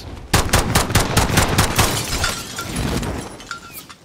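Rapid bursts of automatic gunfire from an enemy player in a first-person shooter game, a dozen or so sharp loud shots in quick succession, then thinning into scattered echoing cracks and faint electronic pings.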